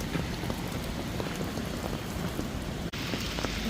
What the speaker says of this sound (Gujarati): હું આવી છું છત્રી લઈને વરસાદ જોવા